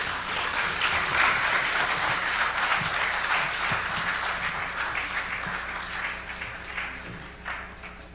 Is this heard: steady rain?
no